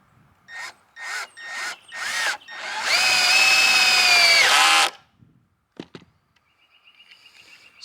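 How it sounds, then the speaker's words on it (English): A cordless power drill drives deck screws into a wooden garden bed box: four short whirring pulses, then one long loaded whine as the screw sinks home, followed by a few light knocks. "I'm gonna put a screw inside there in the wood. So I'm using those deck screws there"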